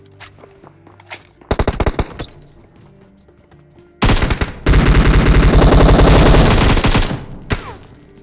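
Automatic gunfire in a first-person shooter video game, fired at an enemy near an ancient temple: a short burst followed after a pause by a long, loud sustained volley of rapid shots, with no talking.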